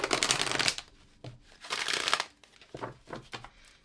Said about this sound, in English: I can't force a card to come out, so I'm just going to stop shuffling.